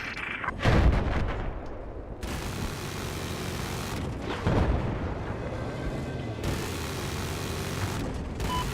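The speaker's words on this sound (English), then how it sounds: "The bomb is dropped." Explosions in a video game battle, with heavy booming blasts near the one-second and four-and-a-half-second marks over a continuous rumble of gunfire and artillery.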